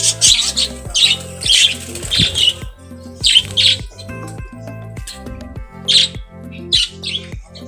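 Small budgerigars squawk and chirp in repeated bursts, close by, over a rhythmic clicking beat in the background.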